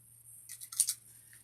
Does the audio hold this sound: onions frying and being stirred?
no